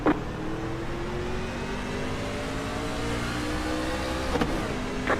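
A racing truck engine in the iRacing sim's fixed-setup truck series drones steadily throughout, a loud continuous mid-pitched roar with little change in pitch and no talk.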